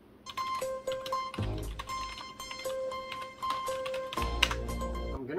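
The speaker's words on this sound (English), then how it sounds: "I'm gonna type the same thing on the GameStop one and then this mechanical keyboard from" Rapid clicking of keys being typed on a GameStop RGB wired keyboard, a steady patter of key strikes with a few louder thumps, close and fairly loud, with no voices over it.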